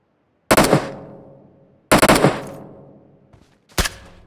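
Three separate bursts of automatic gunfire from the mobile battle royale game PUBG Mobile, each loud and sharp, with rattling shots trailing off into brief echoing decay and silence between them.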